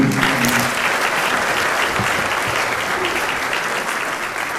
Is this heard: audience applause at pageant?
yes